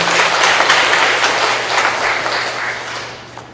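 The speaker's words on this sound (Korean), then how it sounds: "자축 박수 한번 하겠습니다." A church congregation at an installation worship service for a revivalist association's president and chairman claps loudly and together, the applause strongest at the start and gradually tapering off as it ends, with no speech over it.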